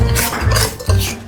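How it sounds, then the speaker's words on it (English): Whisk stirring a strawberry ice cream mixture in a bowl, quick repeated clinks and scrapes of metal on the bowl in a fast rhythm, close and fairly loud. "Now mix again with Mama's whisk"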